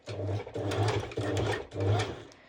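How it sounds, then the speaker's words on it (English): A sewing machine sews a straight stitch in four quick back-to-back bursts with a rhythmic whirring hum, close up and with no voices. "I'm going to do at first a straight stitch"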